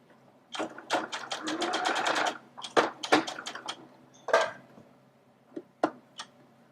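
A sewing machine with a twin needle stitches over the start of a seam, a fast rattling run followed by shorter bursts and scattered clicks, close and loud with no talk.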